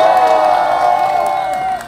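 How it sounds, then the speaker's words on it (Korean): Crowd at a street protest march cheers and whoops with scattered clapping, a loud, sustained roar of many voices that holds steady before easing slightly at the end. "여러분 박수 한번 주세요."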